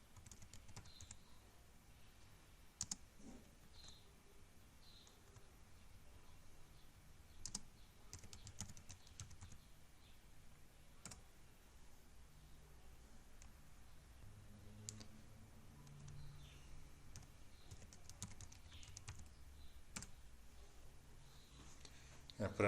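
A password being typed on a computer keyboard during a software install in a terminal, with quiet scattered key clicks and taps over a low room hum.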